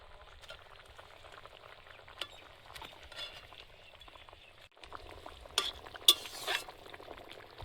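Soft, steady sizzling and stirring as fish goes into a simmering curry with ground cumin paste, faint and close, with a few brief clinks of a utensil near the end and no voices.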